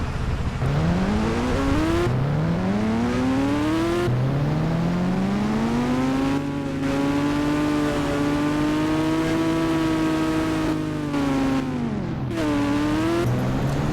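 Engine of a car driven around a video game map, a steady loud drone that rises and falls in pitch as it revs and shifts through gears, with no talking.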